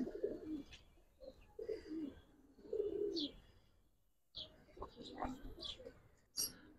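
Giribaz pigeons of the Palla line coo in repeated low throaty bursts, close by, with chirps and small rustles mixed in. Voices talk over and between the calls.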